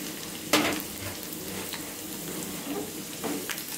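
Urad dal sizzles steadily in hot oil during a tempering with cumin, mustard seeds and garlic for a red sorrel chutney, with a few sharper crackles and pops over a continuous close frying hiss.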